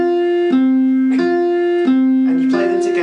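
Two notes from a plucked string divided at a 3-to-4 length ratio alternate back and forth, clear sustained tones with rich overtones switching every half second or so, then sounding together at the end.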